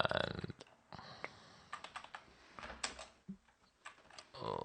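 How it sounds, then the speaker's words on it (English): Keys clatter on a computer keyboard while a config file is edited, bursts of quick close taps with short pauses between them, fairly quiet, with no talk. "I'm typing something wrong here."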